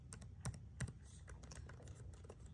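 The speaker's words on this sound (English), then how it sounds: "Keyboard. Buttons are nice on touch." Keystrokes on the plastic keyboard of an HP EliteBook 840 G9 laptop: a quick, uneven run of soft clicks, with two sharper taps standing out, close and quiet with no voices.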